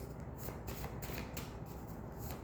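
A deck of tarot cards is shuffled steadily and close up, giving a continuous papery riffling and rustling with soft rhythmic slaps throughout, with no talk.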